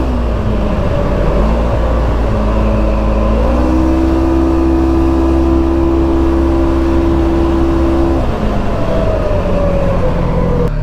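A 2022 Segway Fugleman electric vehicle accelerates on a speed run, its motor whine climbing in pitch, holding a steady high tone, then easing down, loud and close over road and wind rumble.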